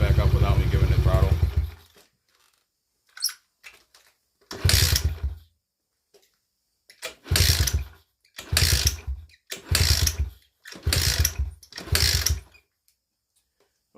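A Kawasaki KLX110 dirt bike engine fires in bursts, with an idle fading out, then a series of short starting attempts and revving pops separated by silences, close and fairly loud.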